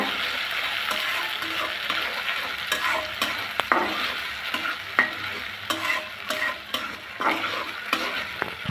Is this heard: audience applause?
no